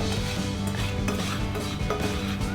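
Toasted, seasoned breadcrumbs are scraped from a pan into a bowl, with a steady scratchy rustle, utensil clinks against metal and a faint lingering sizzle, all close and fairly quiet.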